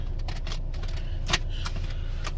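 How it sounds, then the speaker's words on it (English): A seatbelt buckle clicks shut once inside a Volvo car. The short, crisp snap sits over a steady low cabin hum, with a few faint rustles around it. "So I'll plug my belt in"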